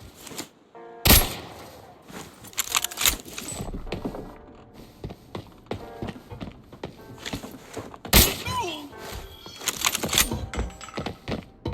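Shots from the SJ-16 sniper rifle in Arena Breakout, two sharp loud cracks several seconds apart amid clattering bolt and handling noises and scattered thuds.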